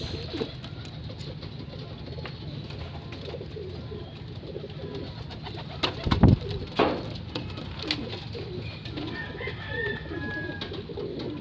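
Racing pigeons coo softly at their loft in an open outdoor setting, with a steady low background hum and a few brief louder knocks near the middle; no talk.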